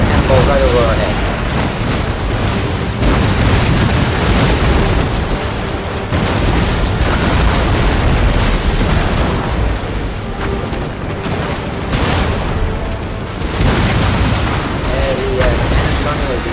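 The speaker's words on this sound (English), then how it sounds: "here comes cannonballs right over our heads" Cannon fire in a naval battle in Empire: Total War between pirates and Spanish ships gives repeated deep booms and explosive bursts, loud and dense, with shots whistling overhead amid continuous battle noise and someone talking over it.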